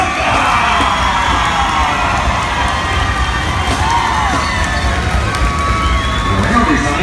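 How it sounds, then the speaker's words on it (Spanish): Loud crowd at a Mexican competition show cheering, whooping and shouting, a dense, continuous roar of voices with some clapping underneath, sustained throughout with whistles and high yells rising above the mass. "el aplauso que se oiga"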